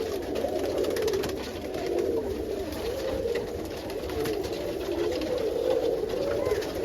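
Several roller pigeons coo steadily inside a loft where they are building nests, producing a continuous, overlapping chorus of soft, throaty calls close by.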